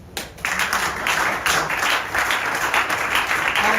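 A church congregation breaks into applause during a sermon, a brief pause then a sudden burst of dense, steady clapping that stays loud and close without speech.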